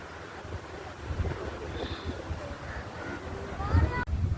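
Wind blows along a riverside near the beach at Tanur, rumbling and gusting against the microphone, with faint voices and other soft sounds underneath.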